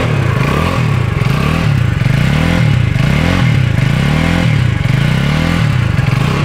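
A Motron Nomad 125 motorcycle, a 125 cc single with 9.5 kW and still cold and being run in, revs repeatedly up and down in loud, close, rising and falling swells with no talk.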